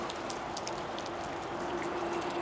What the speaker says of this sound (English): it's raining quite nicely